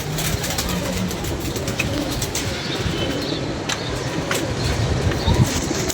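A flock of domestic pigeons being herded back into their loft with a stick, heard as a dense, steady wash of cooing and fluttering under broadband noise, with faint scattered sounds throughout.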